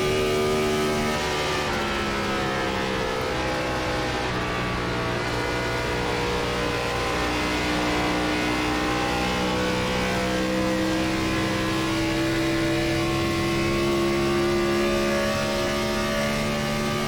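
A Gen4 NASCAR stock car roars at Michigan in iRacing, its engine droning loud and steady at high revs while the pitch slowly rises and dips, with no talk.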